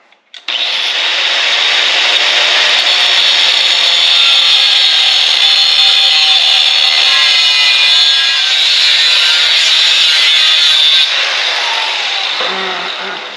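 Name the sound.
4-inch angle grinder cutting metal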